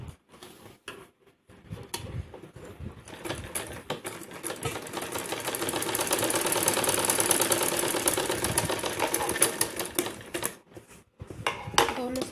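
A sewing machine stitches along the V-shaped cut of a fancy half-inner blouse, a rapid mechanical ticking rattle that starts and stops, then runs in a long loud burst, with a voice talking over parts of it.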